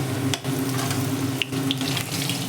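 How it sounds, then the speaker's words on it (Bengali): Potatoes frying in a pan, a loud, close, continuous hiss and crackle of oil with a few sharper spits, heard on its own without talk. "ভাজা হচ্ছে, আলু ভাজা হচ্ছে"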